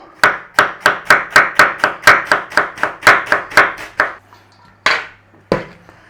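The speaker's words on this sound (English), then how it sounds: "then we chop some more cabbage, that goes on there" Cabbage being chopped on a board for German-style sauerkraut, a loud, close run of about fifteen quick, evenly spaced knife chops, then a pause and two more separate strikes, with no talking.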